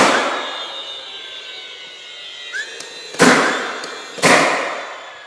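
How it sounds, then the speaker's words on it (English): A nail gun fires nails into a box beam board, two sharp, loud, close shots a second apart following a faint ringing hum and a small clink. "we can go ahead and button this up and just shoot nails right into here."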